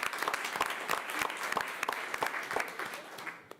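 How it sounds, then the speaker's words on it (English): Audience at a school board of education meeting applauding an honored student, a moderate room of scattered hand claps with a few sharper near claps, thinning toward the end. "So please give her a round of applause."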